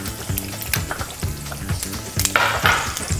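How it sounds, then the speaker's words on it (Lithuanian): Bacon sizzles steadily in a hot pan as it is stirred, with a constant loud frying hiss and brief scraping surges, over a steady rhythmic backing throughout. "Vis pamaišom šoninę."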